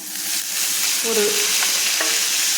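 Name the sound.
curry leaves being sautéed in a pan for chutney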